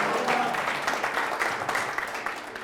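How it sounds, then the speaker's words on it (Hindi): A church congregation applauds for the Lord, a steady wash of many hands clapping at a fairly even level throughout the short stretch, with no voices standing out. "जोर से प्रभु के लिए ताली बजाएंगे"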